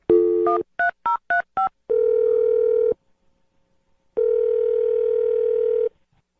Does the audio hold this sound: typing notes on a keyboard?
no